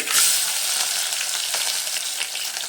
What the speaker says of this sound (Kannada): ಈರುಳ್ಳಿ ಹಸಿ ವಾಸನೆ ಎಲ್ಲ ಹೋಗೋವರೆಗೆ ಚೆನ್ನಾಗಿ ಫ್ರೈ ಮಾಡಬೇಕು.